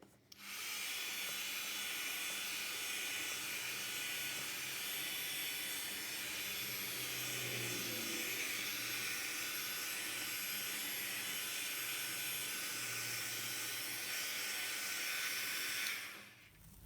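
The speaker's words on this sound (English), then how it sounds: "Now I'm gonna use my heat gun and see what happens." A heat gun blows over an acrylic pour painting, giving a steady, close, loud airy roar that holds unbroken for about fifteen seconds, then cuts off.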